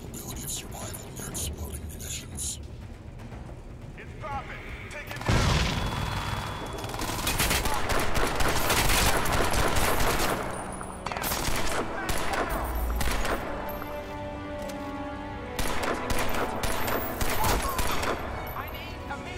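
Repeated bursts of Crysis 2 gunfire, rapid and loud in clusters with short pauses between them, mixed with quiet game sounds and some low voices.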